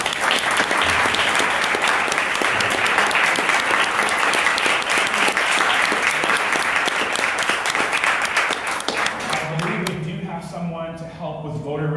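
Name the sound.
audience applause for two debate players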